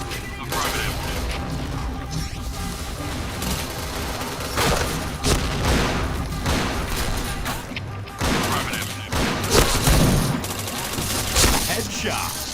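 Gunfire rattles through a shooter video game, dense bursts and booms layered with mechanical clanks and game effects, loud and continuous across the scene.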